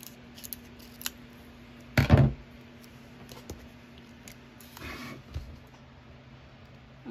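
Scissors snip through a cardboard box: one loud, sharp crunching cut near the middle, then a few softer snips and rustles nearby in an otherwise quiet room.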